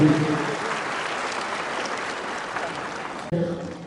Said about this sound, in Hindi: एक बार जोरदार फिर से तालियां हो जाए